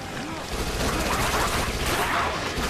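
Rapid, dense gunfire from the top-down zombie shooter Dead Nation rattles on without pause, a constant thick barrage of overlapping shots and blasts.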